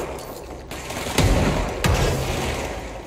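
A grenade blast in the video game Control lands as two sharp booming bursts about half a second apart, set over a steady bed of gunfire and combat noise.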